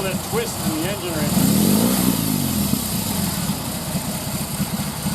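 A BMW R18C boxer-twin motorcycle engine idles with a lumpy throb, then revs up briefly and settles back, close and loud.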